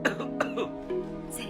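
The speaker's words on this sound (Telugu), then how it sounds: "రెండుసార్లు దగ్గు చూద్దాం" Two short coughs, close and fairly quiet, with a throat-clearing sound and some background voice.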